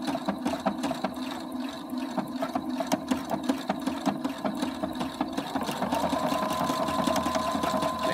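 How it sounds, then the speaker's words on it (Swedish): An Opal 670 sewing machine embroiders a name, its needle hammering in a quick regular rhythm over a motor whir that grows slightly louder and steadier toward the end, close up and without voices. "Och symaskinen stannar alldeles strax här."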